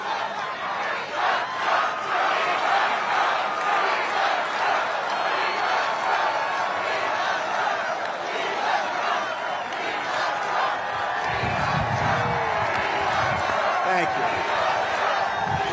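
A large political rally crowd in Michigan cheers and roars continuously, a dense, loud wall of voices with shouts rising near the end.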